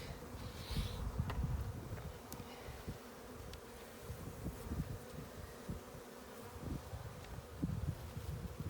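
Honey bees buzz around a hive frame lifted out during a beekeeping inspection: a faint, steady swarm drone close by, with a few slightly louder passes and no talking.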